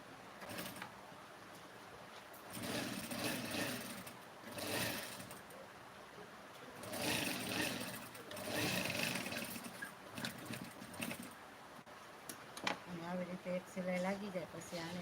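A sewing machine stitches blouse fabric in a tailoring lesson, running in several whirring bursts of a few seconds each, with someone talking over and between the runs.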